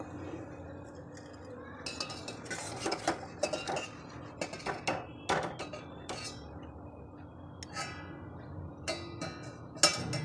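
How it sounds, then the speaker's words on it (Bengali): Boiled baby corn transferred from a pot into a bowl, heard as irregular metallic clinks and scrapes of a utensil against the cookware, close by with quiet pauses between the clatters and no talking. "এখন আমি এটা একটা পাত্রে তুলে নেব।"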